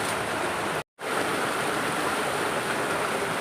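Water rushing down a waterfall in Dehradun, a dense continuous roar of falling and flowing water, loud and close, broken only by one brief dropout of silence near the start.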